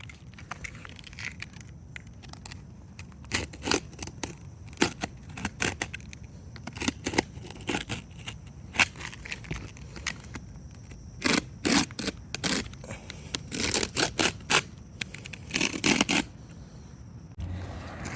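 Roofing shingles being cut with a knife, giving irregular scraping and crunching strokes in bursts, close and fairly loud, with no talking.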